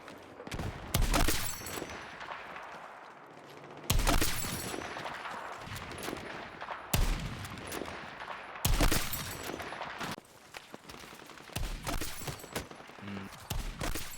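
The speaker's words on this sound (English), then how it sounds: "show why the PSR is such a fantastic sniper in Battlefield 6" PSR sniper rifle firing in the video game Battlefield 6, a few loud sharp shots spaced several seconds apart, each with a long echoing tail over a busy battlefield backdrop.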